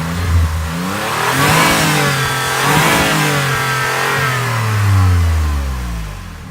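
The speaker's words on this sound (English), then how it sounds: "Let's see how it sounds. The engine itself doesn't sound bad" The engine of a Lexus RX350 luxury SUV is revved repeatedly, rising and falling several times in smooth swells, loud and close, before it settles back toward idle.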